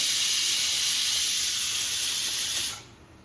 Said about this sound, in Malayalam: ഒറ്റ വിസിൽ അടിച്ചു